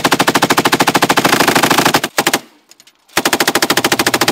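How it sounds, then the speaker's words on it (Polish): A gun fires in rapid automatic bursts, loud and close, with a sustained stream of shots, a brief stop of about a second, then another fast burst. "ale nacisnąłem ten spust"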